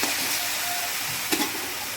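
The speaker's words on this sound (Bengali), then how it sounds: "মশলাটা কষিয়ে নেব।" Spice paste with coriander powder and Kashmiri chili powder frying in oil for a Bengali bata fish curry, a soft steady sizzle with a brief stir clatter partway through, no talk.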